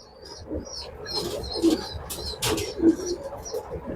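Racing pigeons cooing in a loft, soft low coos repeating close by, mixed with faint chirps and rustling.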